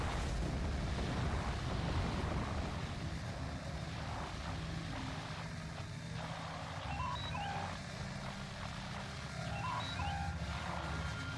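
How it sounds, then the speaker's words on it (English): A starship explodes in the Star Trek Online space game, a loud, sustained roaring rumble that fills the scene with no talking. "That was quite an explosion."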